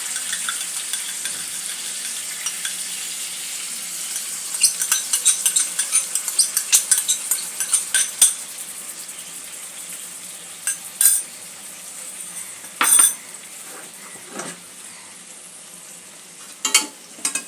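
A spoon stirs cauliflower curry with whisked sour yogurt in a pan, giving repeated scraping clinks against the metal over a soft, continuous sizzle, with scattered louder knocks near the end.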